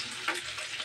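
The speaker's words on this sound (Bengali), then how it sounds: "মাছটাকে ছেড়ে দেব" Hilsa fish sizzling as it goes into hot oil, with a steady broadband crackle of frying that swells briefly as the fish lands, then settles into an even hiss.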